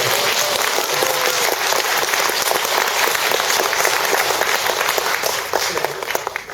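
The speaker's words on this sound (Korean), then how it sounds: "박수 한번 쳐주세요." A steady wash of dense applause from an audience at a Buddhist talk-show concert, sustained and fairly loud throughout, easing slightly near the end.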